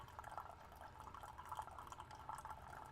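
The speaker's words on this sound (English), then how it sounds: "Ignore the dripping sounds. That's my Keurig." Steady trickling and dripping from a Keurig coffee maker brewing nearby, a continuous fine liquid patter running throughout with small irregular drips, fairly quiet and with no talk over it.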